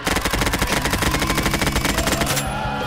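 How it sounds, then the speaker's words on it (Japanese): Rapid automatic fire from an MP5 submachine gun in Garry's Mod, a loud, dense stream of evenly spaced shots for over two seconds before cutting off into a brief ringing tail. "次は MP5 で迎え撃ったんで。"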